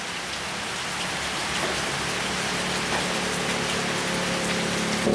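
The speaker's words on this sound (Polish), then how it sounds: "Ciągle pada nam." Steady rain falls in Southeast Asia, a dense, continuous hiss of drops on surfaces, even and fairly loud throughout with no voices.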